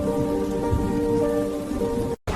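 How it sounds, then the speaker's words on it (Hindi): Heavy storm rain pouring steadily on a surface, a dense continuous hiss that cuts off abruptly near the end. "ये कैसा तूफान है।"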